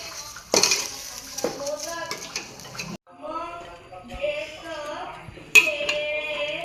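Masala rice ingredients being stirred and mixed together in a metal pot, with close scraping and clinking of a spoon against the vessel in uneven bursts, and someone talking throughout.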